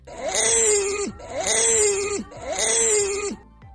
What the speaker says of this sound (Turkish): Koalalar böyle ses çıkarır.